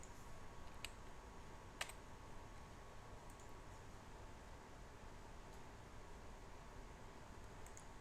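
Sparse keyboard clicks as a price is typed into an online shop's admin page, a few isolated taps spread over steady background hiss.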